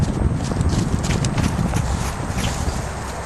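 Hooves of a big horse clip-clopping at the walk during a riding session, steady close rhythmic footfalls with a trainer talking faintly in places.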